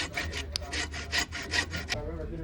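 A hand saw cuts through a glued, pinned wooden dowel in a woodworking shop, with about eight quick, rhythmic back-and-forth strokes heard up close before the sawing stops.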